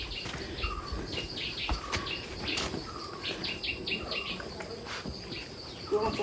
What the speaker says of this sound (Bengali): মানে এরকম পাখির ডাক আমি কতদিন শুনি নাই